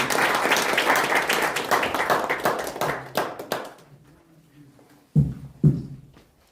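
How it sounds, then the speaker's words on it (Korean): Applause from an audience at a policy forum in a hall, welcoming a speaker to the podium: brisk clapping that thins out and stops after about three seconds, followed by quiet and two sharp knocks or taps. "큰 박수로 맞이해 주시죠."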